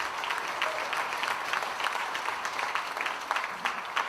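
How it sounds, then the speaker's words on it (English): Audience at a recycling and solid waste company's 25th anniversary celebration clapping steadily, a moderate, continuous patter of many hands with no talking over it. "Please give a big round of applause for my sweetheart."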